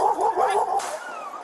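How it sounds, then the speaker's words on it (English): An off-leash dog confronting police officers barks and yips aggressively, loud and close, in a tense rapid burst with whimper-like edges and no talk over it. "The off-leash dog becomes aggressive, Stop! barking, closing distance, and lunging toward the other officer."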